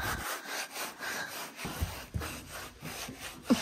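A small pony being brushed by hand, with soft rhythmic scratching strokes of the brush close up, repeated several times with brief pauses and a few light knocks.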